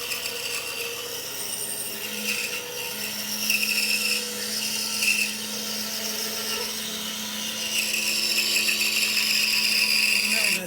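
Power tool cutting into a log to hollow out a box, a loud continuous whining buzz with a steady hum that shifts slightly in pitch as the cut progresses.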